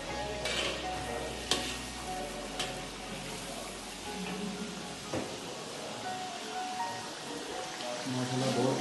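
Tomato masala fries in a very large pot at an outdoor village cookout, giving off a continuous crackling sizzle with occasional scraping stirs and knocks against the metal.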